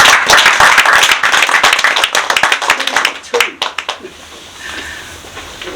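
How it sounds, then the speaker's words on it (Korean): A congregation at a prayer-meeting anniversary gives an enthusiastic round of clapping that is loud at first, then thins out into scattered claps and fades to quiet room tone. "김기중 회장님께 정말 뜨거운 축하의 박수를 보냅니다"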